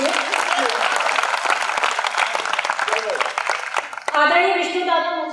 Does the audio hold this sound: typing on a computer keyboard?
no